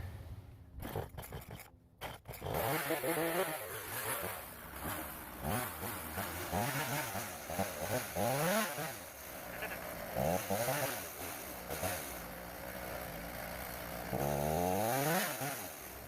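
A homemade chainsaw mill, built from an old chainsaw, cuts through a log with a loud, continuous buzzing whine that rises and falls in pitch as the engine revs, after a few sputtering starts.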